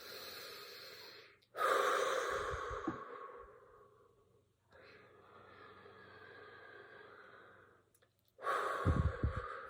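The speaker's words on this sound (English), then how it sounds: "Take some deep breaths in to breathe out." Slow, deep breaths in and out during a guided meditation: a long audible inhale, then extended whooshing exhales, each breath close and loud with quiet gaps between.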